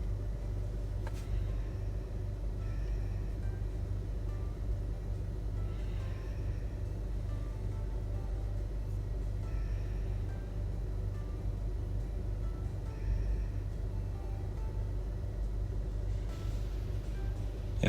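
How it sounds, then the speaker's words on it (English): A parked car's engine idling, a continuous low rumble that stays steady and fairly quiet throughout with faint scattered knocks above it. "If people are hearing the sound of engine running, I am recording this in my car"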